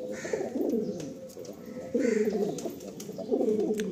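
Giribaz pigeons coo close by in repeated rolling phrases, with three distinct bursts of cooing over a few seconds and soft chirps between them.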